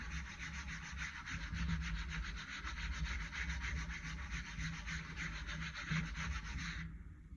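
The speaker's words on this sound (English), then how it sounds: "Use the brayer. Nice even pressure." A brayer is rolled back and forth with even pressure over a printmaking print, giving a continuous close scraping rub that keeps up for several seconds before stopping, with no talking.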